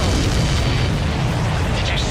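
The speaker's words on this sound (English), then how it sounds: "Did you see that explosion? Looks like that's one of them down." In the video game Ace Combat 7, an enemy supply ship blows up in a loud, sustained explosive roar that fills the whole moment, with a faint rising tone near the end.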